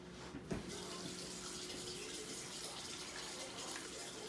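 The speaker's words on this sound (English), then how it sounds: "I'm going to grab water." Water runs steadily from a kitchen tap into a container for cooking rice, a constant broadband gush that starts with a small knock and continues alone.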